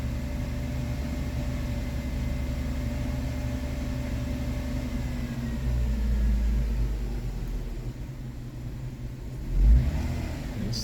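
A Kia Sportage 2.7 engine, repaired after misfires and surging, runs in a steady mid-pitched drone that swells briefly, then eases off with a short bump near the end, heard alone without talk.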